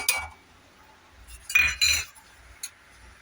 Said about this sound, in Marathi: इथं बघा मी या चमच्यानी दोन चमचे साखर घेतले